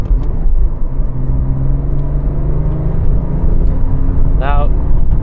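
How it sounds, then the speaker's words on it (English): Porsche 911 GT3 engine idling with a steady low rumble and even mechanical hum, loud and close, with a brief higher whine near the end. "The torque of the idling engine will just move the car, no problem."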